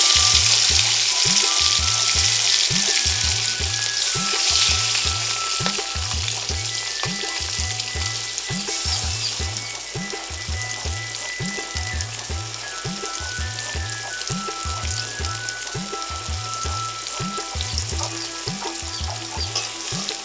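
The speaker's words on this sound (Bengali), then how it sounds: "গরম তেলে ইলিশ ভাজা বলে কথা" Hilsa fish fries in hot oil, a steady bright sizzle and spatter that runs throughout over a repeating low rhythmic thump in the background.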